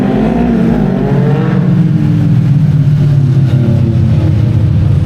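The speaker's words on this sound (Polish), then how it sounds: "dlatego słychać w tle motory" Motorcycles roar past on Snake Pass in England's Peak District, one revving and fading as it goes by, loud and close with a continuous rumble.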